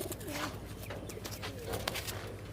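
Several Kaldama pigeons in a loft coo softly and steadily, a low rumbling murmur of overlapping calls with some background bustle and faint talk.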